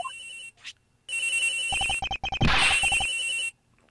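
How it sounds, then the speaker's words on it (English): A cell phone ringtone chirping in the Ace Attorney Investigations video game, a synthetic electronic melody sounding in repeated loud bursts with short gaps, alone and without any talk. "That's gotta be the victim's cell phone."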